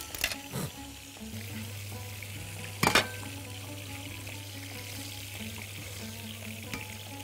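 Eel fish fries in hot oil in a pan, a steady close sizzle with a couple of sharp clattering knocks near the start and another burst of clatter partway through; no talk.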